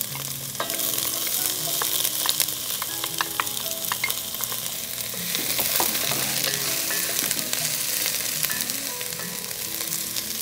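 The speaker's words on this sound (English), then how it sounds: "We're gonna cook these for about 5 to 7 minutes or until the onions start to turn translucent." Onions, jalapenos and green peppers cook in a pot with a steady, close sizzle and crackle, broken by scraping stirs, and no one talks.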